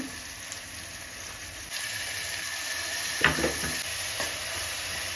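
Spiced masala paste frying in a pan for veg manchurian gravy, with Kashmiri chilli, gives off a steady sizzle while a spoon scrapes and stirs in a few short bursts near the middle.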